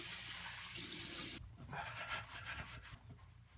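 Running water splashes steadily over hair and scalp as shampoo is rinsed out, a dense close hiss that breaks off and then returns as softer, uneven splashing.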